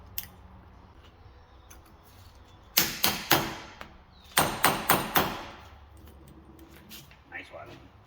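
Cotter pin being fitted through the spindle and locking cap on a 1960s Ford Falcon brake drum, several sharp close metallic clicks and taps in two short bursts, with a quieter tap near the end.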